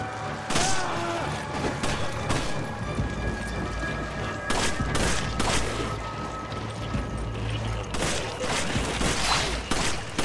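Gunfire in the co-op video game Resident Evil 5: dense, loud bursts of shots and booms over a constant noisy game backdrop, with a few sharp cracks rising above the mix.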